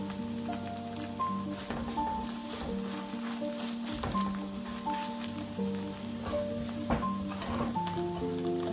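An egg sizzles and fries in a pan over low heat while Nigerian Indomie noodles are cooked with green vegetables. A steady, close crackling hiss runs throughout, with occasional soft pops and clinks and no talking.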